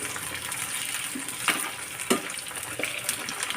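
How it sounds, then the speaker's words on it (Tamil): Eggplant pieces sizzle and fry in hot oil for a biryani-style brinjal gravy, a steady hiss broken by a few sharp crackles and stirring scrapes, fairly close, with no talking. "இது எண்ணெயிலே நல்லா வதங்கட்டும்"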